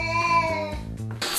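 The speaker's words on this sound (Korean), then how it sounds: "낯선 사람이 오면 무시무시한 소리로 경고하는" A cat's warning growl toward a stranger: a drawn-out, wavering yowl with rising and falling pitch, loud and close, ending in a sharp hissing burst.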